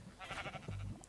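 Sheep bleating in the Minecraft video game, a few short wavering bleats close by, with a lower drawn-out bleat near the end, no talk.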